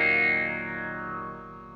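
An electric guitar chord through an EQD Interstellar Orbiter filter pedal with only filter A active, ringing out with a smooth, slowly decaying swell of effected, slightly distorted tone, played alone.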